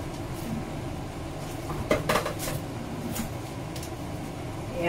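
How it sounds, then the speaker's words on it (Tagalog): Cooked glutinous rice is stirred into thick biko syrup in a pot. A low, sticky bubbling stays underneath, and a few metal scrapes and clanks come in a short cluster near the middle. "Pwede na tong ihalo yung glutinous rice na niluto ko"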